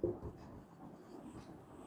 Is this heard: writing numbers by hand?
yes